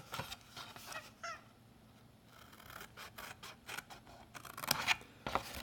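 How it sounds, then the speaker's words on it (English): Scissors trim cardstock in a quiet room, making several close, crisp snips and rasping cuts spaced unevenly, with soft paper handling between the cuts and no talk. "you're going to trim each one of those straight up to the score line"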